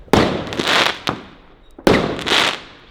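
TXB776 X Treme Triplex fireworks going off near a house, loud crackling bursts in two sustained volleys with sharp pops between them, heard close and without talk.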